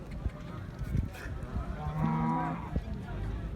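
A buffalo at a busy cattle market gives a single drawn-out moo, close and clear, over crowd noise and background voices.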